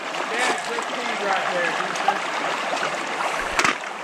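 Creek water flows in a steady, close rush with a soft trickling texture, broken by a couple of brief knocks, and a faint voice can be heard now and then.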